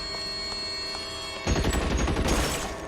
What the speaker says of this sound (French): Déjà, il tire dans le mur.